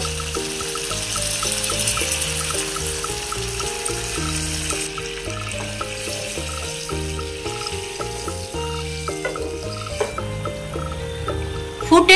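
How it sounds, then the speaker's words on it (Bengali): A cup of water is poured into a hot pan of chilli prawns with vinegar, giving a broad, splashing sizzle that fades. Steady background music plays throughout. "এবারে দিয়ে দেব 1 কাপ জল।"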